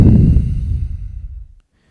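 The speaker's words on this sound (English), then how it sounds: "Exhale to heart center." A single long exhale at heart center during a yoga flow, a close, soft breath that fades out over about a second and a half into silence.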